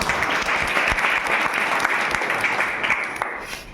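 A room full of people applauds a teacher, a loud, dense, continuous burst of clapping that holds steady and fades slightly at the end.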